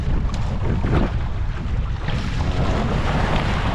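Steady wind buffeting at sea aboard a fishing boat out for grouper, a continuous broadband roar with water wash and microphone rumble, loud and close throughout with no talking.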